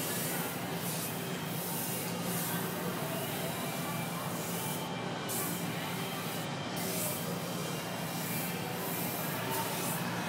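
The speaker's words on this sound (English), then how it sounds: "ready to spray t-shirt paint right out of the bottle" A continuous airbrush hiss spraying acrylic t-shirt paint runs steadily throughout, an even airy spray close by with slight pulsing.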